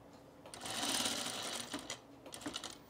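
A sewing machine runs steadily across shirt fabric, stitching a men's Arbor shirt hem, with short pauses and restarts toward the end, close and fairly quiet.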